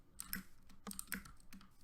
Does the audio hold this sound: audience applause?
no